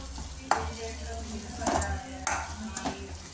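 Okra sautés in a pan with chili powder, garam masala and salt, giving a steady low sizzle with several scraping stirs of a utensil against the pan.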